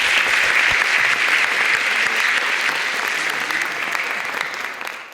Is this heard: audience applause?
yes